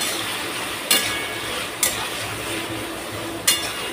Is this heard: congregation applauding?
no